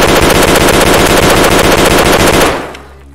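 Rapid burst of automatic Saiga 12 shotgun fire from a fully loaded 20-round magazine in Escape From Tarkov, loud and close, with shots in quick succession for about two and a half seconds before cutting off.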